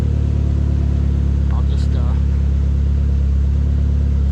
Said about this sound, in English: So, if you can't tell, we have a hanging throttle.